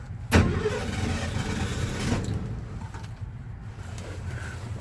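A 1969 Ford Bronco half-cab truck with a column-shift three-speed manual cranks and catches with a sharp start, then settles into a steady, rough, close idle.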